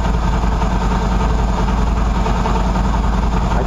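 A Qlink QBK 250 Adventure motorcycle idles steadily just after being started from sitting, a close, continuous mid-low engine drone with even rhythm and no talking.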